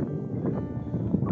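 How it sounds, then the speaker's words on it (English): Steady wind blowing across the open marshes at an RSPB reserve on a cold day, a continuous low rumbling buffet with gusty surges and no talking. "So it is windy today."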